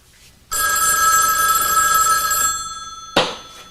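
A telephone bell rings loudly in a bright, sustained metallic trill for about two seconds, then fades, followed by a short clunk as the handset is picked up.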